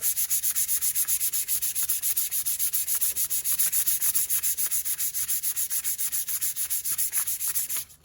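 Steady rhythmic rubbing of a tool blade being honed on a Tormek grading stone, quick strokes repeating evenly throughout, bright and gritty with no talking.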